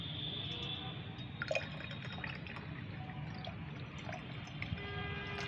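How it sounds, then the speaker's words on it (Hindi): Tea-leaf water strained through a sieve into a glass of plain water, a soft trickle with faint drips and light clinks, quiet and close, with no talking. "इसी में मैं ये 1 गिलास चाय पत्ती का पानी छान लेती हूँ।"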